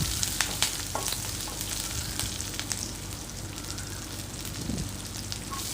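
Garlic, green chillies, mustard seeds and cumin sauté in hot oil in a home kitchen, giving a steady, close sizzle with small crackles and pops throughout and no talking.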